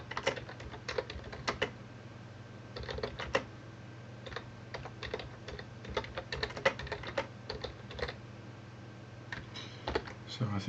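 Fingers type on a computer keyboard in irregular bursts of crisp key clicks with short pauses, close and steady under a low background hum, without any speech.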